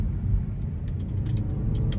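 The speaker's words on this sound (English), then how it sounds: "So having that turbo on there does help you get up to speed pretty nicely" A 2019 Buick Encore with a 1.4 turbo engine pulls along the road, a steady low cabin rumble of engine and road noise with faint clicks and rattles inside.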